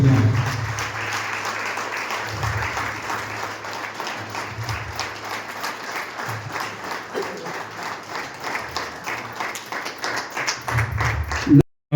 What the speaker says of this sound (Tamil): பெரிய கரகோஷம்